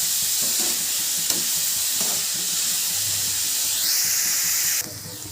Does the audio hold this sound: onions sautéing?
yes